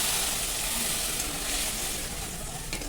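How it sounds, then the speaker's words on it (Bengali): Water hits a sizzling butter paneer gravy in a hot pan, producing a loud, steady hiss and bubbling sizzle that lasts the whole moment. "এরপরে আমি জল দিয়ে দিচ্ছি।"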